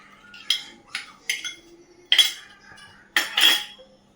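Spoon whisking milk cream (malai) in a bowl while preparing a hotel-style cashew khoya curry, giving six separate clinking, scraping strokes in uneven rhythm, close and fairly loud with no voice.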